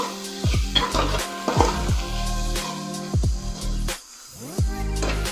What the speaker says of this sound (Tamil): இது வந்து இப்போ நம்ம நல்லா ஃப்ரை பண்ணணும்.